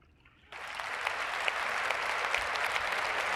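Applause breaks out at the presidential inauguration in Washington, DC, jumping suddenly from near silence to dense, sustained clapping from a large crowd that holds steady to the end.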